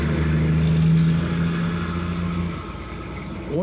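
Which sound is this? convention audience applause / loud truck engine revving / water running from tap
loud truck engine revving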